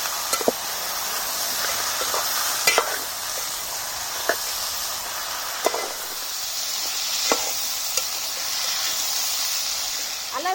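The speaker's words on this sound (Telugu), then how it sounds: "పచ్చి కూరను ఇట్లా ఒక ఐదు నిమిషాలు ఫ్రై చేసుకోవాలి" Country chicken curry fries in a pan in a village-style kitchen, with a soft steady sizzle and hiss and occasional clinks of stirring.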